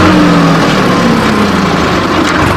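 A Sonalika RX 47 tractor engine runs loud and close with a steady, throbbing mid-low drone as it is shifted into third gear, with a faint falling tone early on.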